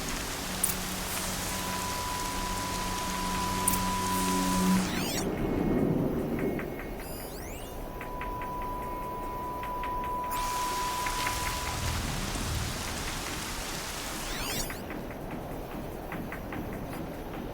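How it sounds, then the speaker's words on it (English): Steady rain pours throughout a wild outdoor scene in the Horizon Zero Dawn video game, a dense loud hiss with brief tonal game sounds layered over it and no talk. "Rain's too loud to hear much."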